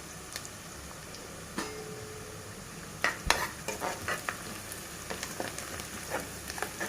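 Onions fry in a pan while being stirred for a mutton curry: a low sizzle runs beneath scraping, clattering stirring strokes that come in quick irregular bursts, with no talking.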